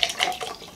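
Water splashes and trickles into a glass or cup at a Jollibee fast-food meal, a short, soft, close pour with light clinks of tableware.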